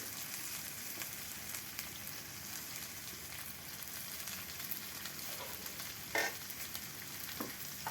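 Spices sauté with teasel gourd and mourala fish in a pan, giving a continuous soft sizzle with faint scraping stirs and one brief clatter toward the end, no voices.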